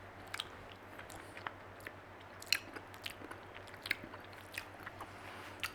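Soft crunchy bites and chewing of rice mixed with chili and palm sugar, close and quiet, irregular small crunches over a low steady hum with no talking.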